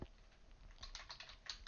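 Quick, light keystrokes on a computer keyboard at a command line, a short irregular burst of clicks heard close but faint, with no talking.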